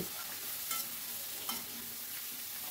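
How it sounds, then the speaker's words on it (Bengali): Spiced potatoes fry steadily in a pan over a medium-high gas flame, a continuous sizzle broken by a couple of sharp scrapes from the stirring spoon. "দিয়ে আলুগুলোকেও একটু ফ্রাই করে নেব। গ্যাসের ফ্লেমটা মিডিয়াম টু হাইতে রেখেছি, আর অনবরত কিন্তু নাড়তে হবে।"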